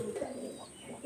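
A pair of pure Salara pigeons coos softly in a few low, rounded calls, close by and with no talk over them.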